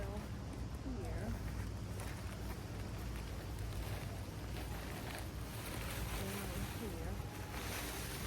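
Strong wind gusting across an outdoor container garden, loud and constant with heavy buffeting on the microphone, while a voice speaks briefly over it.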